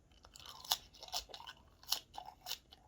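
Close, crisp crunching of someone chewing raw baby napa cabbage, a few distinct bites and chews spaced over a few seconds, fairly quiet with no talking.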